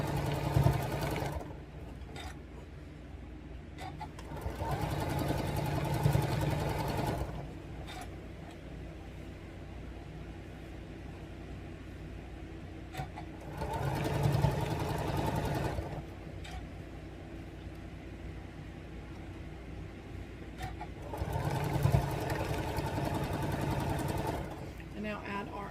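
Sewing machine stitching strips onto a quilt block, running in several steady bursts of a few seconds each with pauses in between, close and moderately loud, with a voice talking over parts of it.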